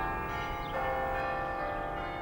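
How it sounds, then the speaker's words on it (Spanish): Church bells ring across England in celebration, a soft, distant pealing with sustained tones that hang and overlap at low volume. "las campanas de las iglesias repicaban por toda Inglaterra"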